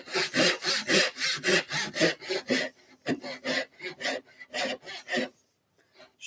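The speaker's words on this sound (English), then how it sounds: "Tenon saw. I can bring it in. I can rest it up against that knife line now." A tenon saw cuts wood for a halving joint in a workshop. The close rasping strokes come in a steady back-and-forth rhythm, about a dozen of them, before a brief pause and a few final pulls.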